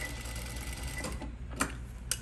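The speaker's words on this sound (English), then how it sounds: "I'm going to sew at a diagonal, flip, sew across the bottom, pivot, sew at a diagonal" Sewing machine stitching elastic into pajama shorts, a steady, continuous mechanical whir with a few sharper clicks near the end, fairly close and alone without talk.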